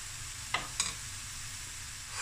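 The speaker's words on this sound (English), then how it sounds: "I'm going to cook with the tomato sauce and everything." Chicken and tomato sauce cooking in a pot for a pasta dish, giving a soft steady sizzle with two brief stirring scrapes early on, fairly quiet and without talk.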